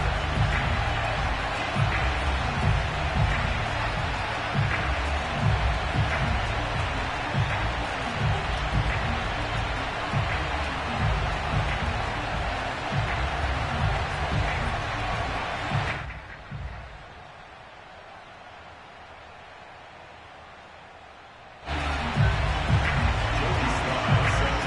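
A stadium crowd roaring in the Madden NFL 22 video game before a kickoff in Columbus, a loud, steady wash of cheering under commentator talk that drops away briefly before returning.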